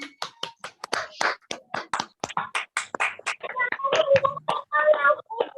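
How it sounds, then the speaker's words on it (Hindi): Sharp, separate hand claps ring out at an online graduation ceremony, a quick uneven run of close, dry strikes with some overlapping sounds and tones near the end. "ये है भाई हरीश चंद्रा, एक बार फिर से जोरदार तालियां।"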